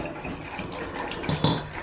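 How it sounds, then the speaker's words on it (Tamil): Water is poured into a pan of spiced tomato masala, a faint, brief trickle and splash near the end over soft background noise. "இப்போ வந்து நான் இதில் கொஞ்சம் கொஞ்சமாக தண்ணி சேர்த்துறேன் ஒரு அரை டம்ளர் கிட்ட"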